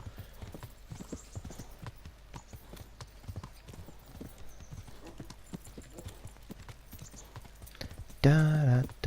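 Horse hooves clip-clop at a steady gallop rhythm in Kingdom Come: Deliverance, a medieval role-playing game, with someone talking over them and a brief loud burst near the end.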